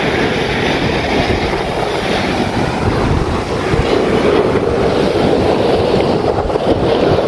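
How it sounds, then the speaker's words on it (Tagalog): A loud, continuous broadband roar of strong surf crashing on the shore at Windang Island, Wollongong, Australia, fills the clip steadily without pause, close by and with no voices. "At yung lakas ng alon ng dagat"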